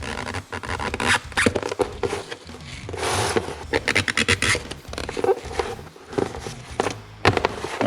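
Tabs are cut off a Ford 289/302 valve cover gasket, giving close, uneven scratchy cutting and scraping sounds in irregular short bursts with brief gaps.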